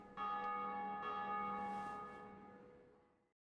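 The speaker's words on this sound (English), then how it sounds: "every time you hear a bell going off in this area, that's when another player has beaten the boss" A large bell tolls once in Dark Souls, a deep resonant strike with a long ringing decay fading over about three seconds, heard alone.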